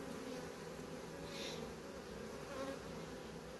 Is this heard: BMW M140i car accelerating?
no